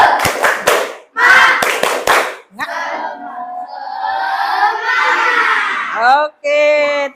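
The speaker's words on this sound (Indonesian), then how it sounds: "Tepuk semangat." A classroom of children claps hands in a quick rhythmic spirit-clap pattern, sharp bursts of claps in groups, then breaks into a loud shouted group chant.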